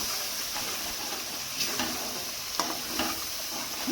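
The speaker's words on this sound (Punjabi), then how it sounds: "ਲੋ ਜੀ ਮਸਾਲਿਆਂ ਨੂੰ ਵੀ ਆਪਾਂ 1-2 ਮਿੰਟ ਭੁੰਨ ਲਈਏ ਜੀ" Ground spices with red chilli are dry-roasted in oil in a pan while being stirred, giving a steady close sizzle and hiss with a few scraping strokes.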